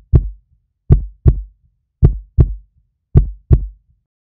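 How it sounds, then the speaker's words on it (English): A mother's heartbeat as heard from inside the womb: muffled, low thumping beats in lub-dub pairs, repeating at a steady resting rhythm, close and soft with silence between. "The fetus may be able to hear sounds from the outside world, such as the mother's heartbeat or voice."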